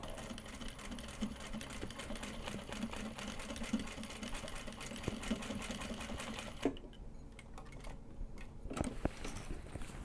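A sewing machine does light top stitching in a continuous, close, rhythmic whir for most of the stretch, then stops abruptly, leaving a few scattered clicks and handling taps.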